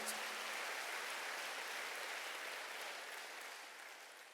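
A church congregation claps at a Wednesday worship service, giving a faint, dense wash of applause that slowly fades out.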